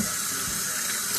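Hot water runs steadily from a faucet into a sink, a continuous broad hiss and splash with no gaps, fairly close and moderately loud, with no voices.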